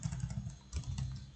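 C code typed on a computer keyboard, a quick close run of soft, even key clicks with a brief pause midway and no talking.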